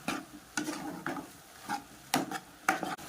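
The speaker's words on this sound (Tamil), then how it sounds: "இப்போ பாருங்க அப்படியே வெங்காயமும் கறியும் நல்லா வெந்துக்கிட்டே இருக்குது" Pork cooking with onions in its own fat in a pan without oil, a spatula scraping in several separate strokes over a low, gentle sizzle, close by.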